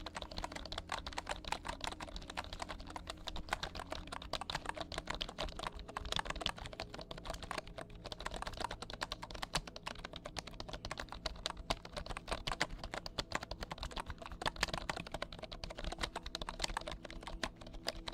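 Continuous, close-up typing on a computer keyboard for ASMR: dense, steady clatter of individual key clicks at a brisk, even pace throughout, no talking.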